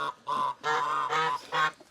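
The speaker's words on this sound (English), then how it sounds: "There's the Chinese geese." Chinese geese honking on a farm, five loud, close, nasal calls in a quick uneven series with short gaps between them.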